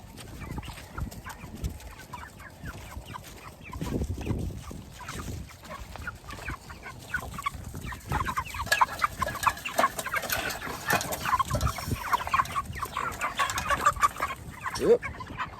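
A flock of chickens clucks and chatters continuously near the keeper as they follow along on a farm, with scattered footsteps and rustling under the busy, overlapping calls.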